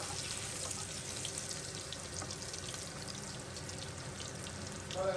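Chopped onion, ginger and garlic fry in a pan, a dense, steady hiss of sizzling oil that swells slightly at the end, with no speech.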